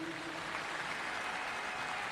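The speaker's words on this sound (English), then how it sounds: "Let's give him another round of applause, please." Steady crowd applause fills the hall at a school National Signing Day event, a dense, even wash of many hands clapping with no pauses, moderately loud throughout.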